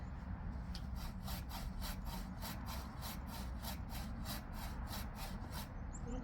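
A saw cutting through a large tree branch during pruning at a house in New York, steady rhythmic back-and-forth strokes, about two per second, close and loud, with no talk.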